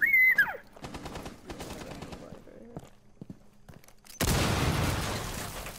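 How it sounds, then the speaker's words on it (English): Gunfire from a tactical shooting match in Rainbow Six, with rapid bursts of shots and footsteps mixed with game noise, ending in a loud sustained roar of fire, while players talk over the action. "Oh my god, they're shooting."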